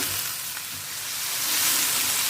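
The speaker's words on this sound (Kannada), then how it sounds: "ಸ್ವಲ್ಪ ಇದನ್ನು ಈ ರೀತಿಯಲ್ಲಿ ಮಸಾಲೆಯನ್ನು ಹುರಿದುಕೊಳ್ಳೋಣ" Masala spices frying in a pan for a traditional Tulunadu chennere kayi sukka, a steady broad sizzle running close and even throughout with faint stirring, no talking.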